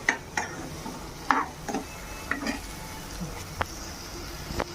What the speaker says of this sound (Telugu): ఉల్లిపాయలు ఒకసారి తిప్పేసుకుని మనం మూత పెట్టేసుకుందాం, మగ్గిపోతాయి.